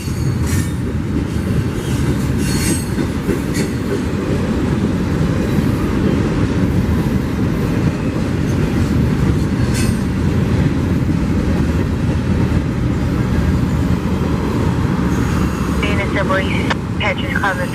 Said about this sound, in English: Maybe you can see both trains going that way.